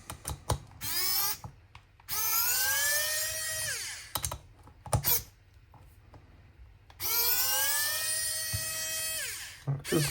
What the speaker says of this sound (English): Just unscrewing things quite good, actually.